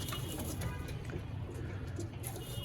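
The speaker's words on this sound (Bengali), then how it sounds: "অনেকগুলো পায়রাই আছে" Pet pigeons coo softly and continuously in a short stretch, a low murmuring burble close by with no talk.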